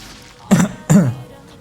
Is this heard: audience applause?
no